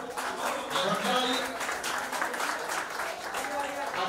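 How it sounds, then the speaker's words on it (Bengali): An audience claps steadily for Sanjay at a ceremony honouring newly selected West Bengal Police constables, a dense, continuous patter of applause with people talking over it. "সঞ্জয় জোরে একটা হাততালি।"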